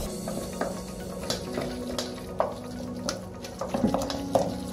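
Almond butter and pumpkin puree being mixed in a bowl, a quiet wet stirring and scraping with soft irregular clinks and squelches close by.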